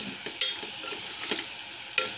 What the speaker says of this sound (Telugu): పసుపు, ఉప్పు, కారం, గరం మసాలా అన్నీ ఒకసారి తిప్పండి.